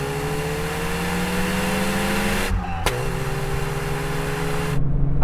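Volkswagen Golf GTI cars of several generations, including a Mark I, accelerate hard from a 50 km/h second-gear rolling start in a half-mile drag race, engines droning steadily and loud with a brief dip near the middle.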